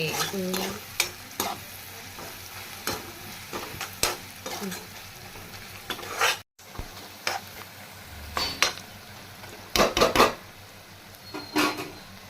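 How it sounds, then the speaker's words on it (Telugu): Sliced onions fry with salt and chili powder in a pan for Telugu onion pulusu, with steady sizzling and repeated scraping stirs of a spoon against the pan, close and clear, with a brief pause midway. "ఇప్పుడు 1 స్పూన్ కారం వేసి కలుపుకోవాలి."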